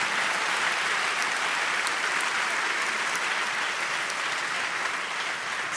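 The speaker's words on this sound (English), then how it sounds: "we think we need an applause for this" A live audience at a climate event gives sustained, even applause, dense and fairly loud throughout with no talking over it.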